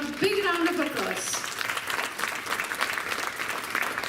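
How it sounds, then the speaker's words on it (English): An audience claps for volunteers at a community charity event, with steady, moderately distant applause continuing throughout while a voice speaks over it at the start. "A big round of applause."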